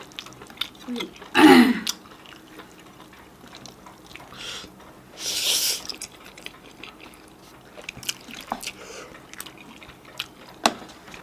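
Close chewing on salad during a mukbang meal, with two loud crunchy bursts separated by quiet and a few faint wet clicks between them.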